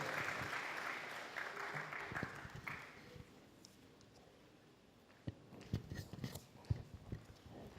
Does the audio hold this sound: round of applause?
yes